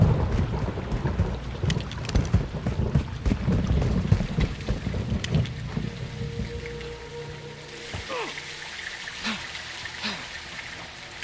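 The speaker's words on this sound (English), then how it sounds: "It's raining fucking hard." Heavy rain pours steadily in a Call of Duty Modern Warfare 2 campaign level, a dense hiss with scattered thunder rumbles and clatter, easing somewhat in the second half while voices speak briefly over it.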